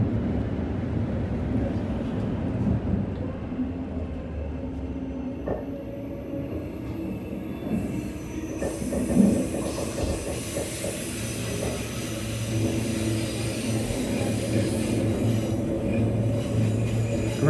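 A Transperth B-series electric train running underground in Perth, steady low rumble and hiss, wheels occasionally squealing, the sound enclosed and continuous as in a tunnel.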